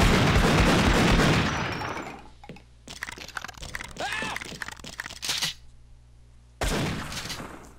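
Gunfire in the video game Half-Life: Opposing Force, with bursts of cracking shots and rattling impacts over a dense, noisy backdrop, loud and close, separated by brief quieter gaps.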